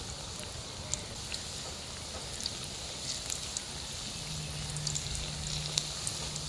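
Cauliflower pakoras deep-frying in oil give a soft, continuous sizzle with scattered light pops and crackles, faint and close, steady throughout.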